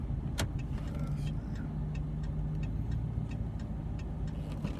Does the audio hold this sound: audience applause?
no